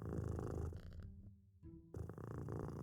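Cat purring in the puzzle game A Little To The Left, a steady low rumbling purr that fades briefly in the middle before returning, heard alone with game music.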